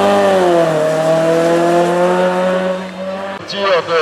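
A Renault R5 GT Turbo race car at a hill climb in Courpière, its engine roaring loud and close in a sustained high-revving note that rises and falls, ending with a quick gear change and renewed acceleration.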